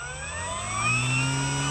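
An FMS Pitts V2 1400mm model airplane's electric motor whines during its takeoff roll, pitch gliding steadily upward as it speeds up, loud and close with no voices.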